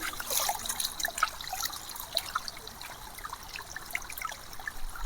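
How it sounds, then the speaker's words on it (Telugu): Water trickles and gurgles steadily along a forest stream in Araku, a soft close babble with bright splashy detail and no voices. "ఇక్కడైతే వాటర్ పారుతున్నాయి అనమాట"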